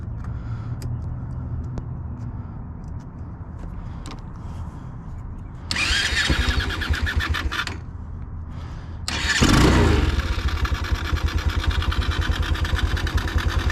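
A 2020 Boom Vader Gen 2 Grom-clone motorcycle engine running at idle during carburetor tuning, a steady close mechanical putter that rises in revs twice as the mixture screw is turned.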